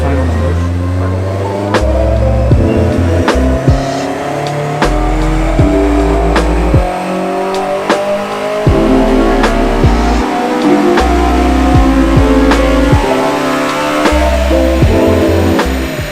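A Honda S2000 with a K-series engine on a dyno revs hard in repeated rising sweeps, loud and close, each run cut short by sharp popping and banging from the exhaust, with voices in between.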